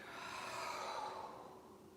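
A single soft, breathy exhale during a kundalini yoga nabhi kriya practice, rising then fading over about two seconds, quiet and close with no voice.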